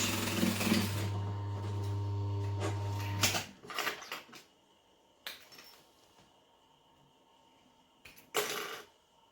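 A sewing machine stitches close along the edge of a tote bag: a steady, close motor hum runs for about three seconds, then stops, followed by a few sharp handling clicks and knocks in near silence.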